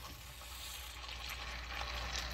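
Shrimp frying in a hot stainless steel pan, giving a steady, close crackling sizzle with fine spitting that holds at an even level throughout.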